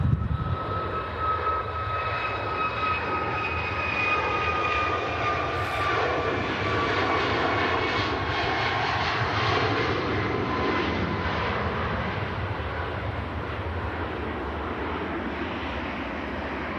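TUI Boeing 737 MAX jet engines roar steadily on the takeoff roll, a broad continuous rumble with a whining tone that slowly slides in pitch, heard from a distance outdoors with some wind.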